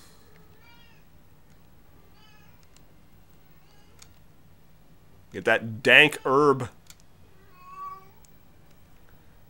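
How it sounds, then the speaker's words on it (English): A house cat meows loudly two or three times in quick succession midway, following a man's speech, with faint keyboard typing ticking in the quiet background of a livestream room. "Can you even hear the cat from there?"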